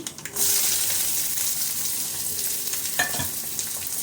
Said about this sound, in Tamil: இப்போ கடுகு உளுத்தம் பருப்பெல்லாம் பொறிஞ்சிடுச்சு வெங்காயம் போட்டுக்கலாம் பொடியாக கட் பண்ண வெங்காயம் போட்டுக்கலாம்